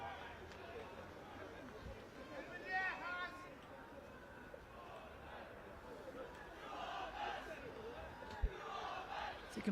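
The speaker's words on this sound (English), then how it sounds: "you can probably hear the crowd in the background, really lively, getting behind their teams." A lively crowd at a rugby match in the ACE League finals cheers and shouts continuously in the distance. The roar swells in places, with scattered voices and claps over steady outdoor noise.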